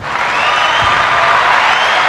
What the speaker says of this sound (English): And as you can hear, the crowd goes wild.